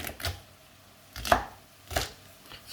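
Swiss chard leaves are cut coarsely with a knife on a board: three distinct chopping thuds spaced about a second apart, close and clear with no talk.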